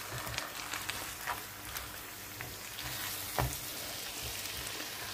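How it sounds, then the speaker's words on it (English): Sweet and sour cauliflower wings with spring onions get a final stir in a hot pan, giving a steady close sizzle and frying crackle with a few soft scraping knocks and no talking. "Now I'm going to add the remaining spring onions. Give it a final stir."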